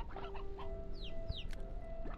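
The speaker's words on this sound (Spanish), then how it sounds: "Esta gallina es nueva, me la voy a llevar." Chicken clucking in the video game Slime Rancher 2, short bird-like calls and clucks over a busy game soundscape with a steady background hum.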